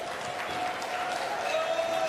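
A crowd at a para table tennis doubles match in Paris cheers and applauds, a steady wash of clapping with a faint sustained tone running underneath.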